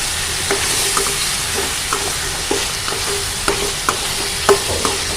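Potatoes, boiled until three-quarters cooked and cut, fry in a pan with a steady hiss of sizzling oil, punctuated by irregular clicks and scrapes of a spoon stirring them, close and fairly loud.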